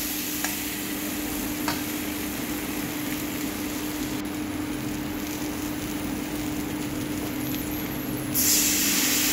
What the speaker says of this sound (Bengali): এখানে 2টো টমেটো দিয়েছি, বেশ একটু মাখো মাখো হবে টমেটোটা দিলে